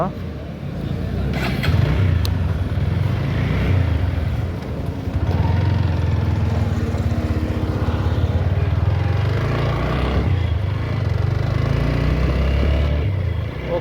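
A motorcycle with small modifications and a freshly tightened chain is ridden, its engine giving a steady, close, unbroken drone throughout with slight swells in pitch.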